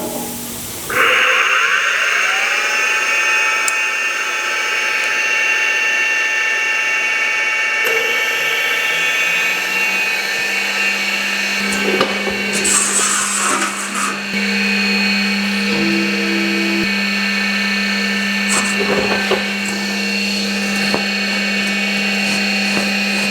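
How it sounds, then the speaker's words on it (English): A press brake bends marked sheet metal for a Willys Hellcat build, a loud, sustained mechanical whine with shifting tones that runs throughout, broken by a few clunks and bursts of noise. "we'll take it over to the press brake and get it bent."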